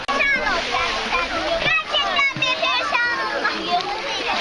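Water splashing and sloshing as someone wades into a lagoon at Oludeniz, Turkey, with children's voices and chatter mixed throughout at close range.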